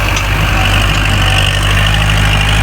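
A Kubota L5018 tractor runs at steady loud power while pushing soil to level ground, its diesel engine droning close and continuous in two-wheel drive, with no voices.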